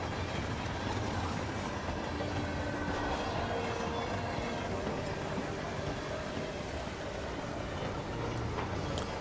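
Moving train in the Hitman game's Carpathian Mountains level, a steady broadband rumble of rolling rail cars with faint clattering, continuous and fairly loud throughout with no talking.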